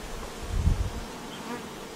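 Honeybees buzz in a dense, continuous drone at a hive where a beard of bees has clustered on the front wall in 36°C apiary heat, the sound close and steady with no talk.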